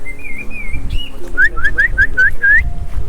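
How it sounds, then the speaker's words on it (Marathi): A bird, a chiko rather than a bulbul, calls loudly and close in a rainy outdoor setting near a village, with a few drawn-out whistled notes followed by a quick series of six short rising chirps. "बुलबुल नाही दुसरा पक्ष आहे हा चिको आहे"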